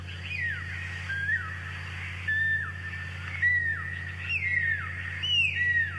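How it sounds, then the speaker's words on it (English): Pearl-spotted owlets call from a recording played back outdoors on a safari drive, a series of thin descending whistles repeating in rising bursts over a steady low engine hum. "So that's the pearl-spotted owlets calling."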